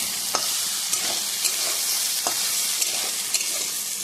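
Spiny gourd (kakrol) slices sizzle in hot oil with a steady bright hiss, punctuated by scattered small crackles and pops at an even pace.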